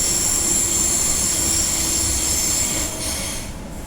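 A Perth suburban train runs at speed through Perth Stadium Station, a loud, close rumble with high wheel squeal and steady rail noise that eases slightly toward the end, with no talk.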